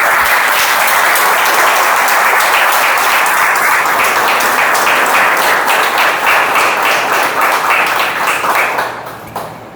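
Audience applause at a Spiritist group gathering: dense, sustained clapping from a large crowd, loud and steady for several seconds, then fading out toward the end.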